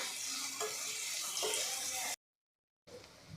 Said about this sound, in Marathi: आता सोनेरी रंगावर छान असा आपण परतून घेऊ